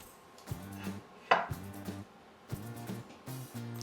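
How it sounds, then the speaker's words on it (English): A knife cuts through bacon on a board in a home kitchen, giving several sharp thumps and taps in short bursts with pauses between, close up with no talk. "I need to cut my bacon up."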